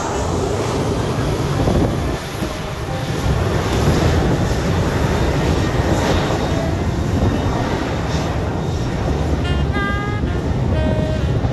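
A fixed-wing airliner takes off and banks into a turn at Sint Maarten, its engine roar broad and continuous, steady and loud throughout with wind buffeting the microphone.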